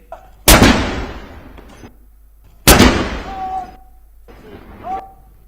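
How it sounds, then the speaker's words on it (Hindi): Two sharp, loud booms of a ceremonial cannon gun salute in Britain, about two seconds apart, each followed by a rolling echo that fades out, with a softer trailing report near the end. "ब्रिटेन की परंपरा के मुताबिक तोपों की सलामी दी गई"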